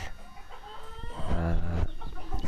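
Gamecock roosters at a backyard breeder crow and cluck nearby, one strong drawn-out crow rising over steady clucking and farmyard background.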